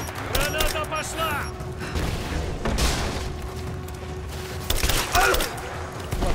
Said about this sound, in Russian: Граната пошла!